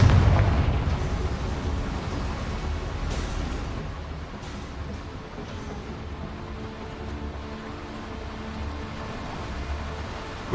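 A Confringo fire-blast spell in Hogwarts Legacy erupts with a heavy, booming explosion at the start, then a few fainter bursts ring out over a sustained low rumble and game ambience.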